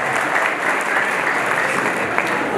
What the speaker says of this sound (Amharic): ከልባችሁ እስኪ በጣም ደስ ካላችሁ በአንድ እጃችሁ በደንብ አጨብጭቡላቸው።